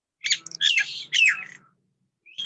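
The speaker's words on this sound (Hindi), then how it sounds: "पैरोट है ना उसके घर में, इसलिए आवाज आ रहा है" A pet parrot inside a home gives a quick run of sharp, close chirps and squawks in several bursts, then falls briefly quiet before one more short call.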